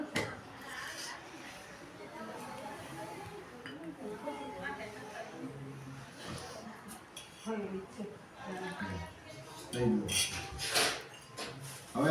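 A small spoon clinks against a little metal bowl as water is spooned into it during a home puja, with scattered light clinks that cluster near the end under ongoing talk.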